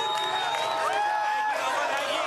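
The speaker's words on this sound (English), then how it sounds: "These crowds gathered despite all that." A crowd of street demonstrators makes a mass of overlapping voices, with scattered shouts and whoops rising above the steady hubbub.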